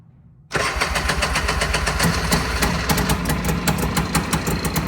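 An off-road vehicle engine, likely a 2024 Can-Am Maverick or a 1990 Polaris, cranks and catches abruptly, then runs loud and close at a fast, rough, pulsing idle.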